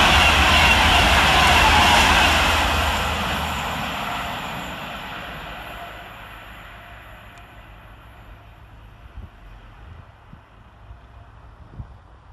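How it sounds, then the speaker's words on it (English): A Class 390 electric train, unit 390-119, passes through Tamworth station, its loud rushing roar near at first, then steadily fading into the distance over about twelve seconds. "Flying around the corner running 6 minutes late is 390-119, working 1 Alpha 42 from Manchester Piccadilly to London Euston."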